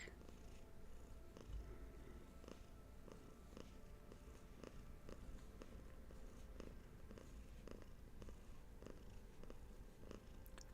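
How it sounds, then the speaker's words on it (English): A cat purrs softly and continuously, a low rhythmic rumble that stays close, quiet and even throughout with nothing else over it. "Let Hattie's little purrs help you come back"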